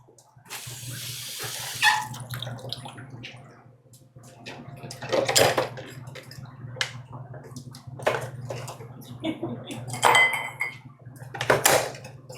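Fresh ice cubes are handled for a mango cocktail, with sharp clinks and clattering knocks against glass and metal in irregular bursts over a steady low hum, close and fairly loud.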